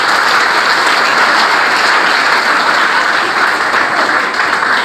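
Dense, steady applause from an audience at a secondary-school back-to-school event fills the whole stretch at an even, loud level, with no clear voices standing out.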